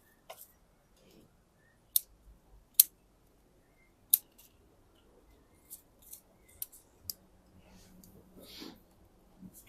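Sharp snips of pruning shears trimming a young maple bonsai, a handful of crisp isolated cuts spaced a second or two apart, close and quiet, with soft handling rustle between them.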